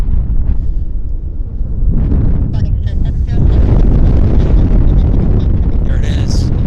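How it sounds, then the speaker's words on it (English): A Boeing 777 freighter's jet engines roar on the takeoff roll at Vancouver Airport, a loud continuous rumble heavy in wind buffeting that swells and holds, with a voice talking over it. "777 freighter on the roll. Airspeed's alive. I can hear the engines."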